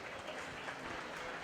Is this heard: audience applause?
yes